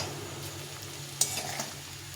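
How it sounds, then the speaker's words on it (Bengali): Cauliflower frying in oil in a pan while a spoon stirs it, a steady soft sizzle with one sharper scrape of the utensil partway through, close and fairly quiet, no voices. "ফুলকপিটা ভেজে নিয়েছি একদম সেদ্ধ হয়ে গেছে"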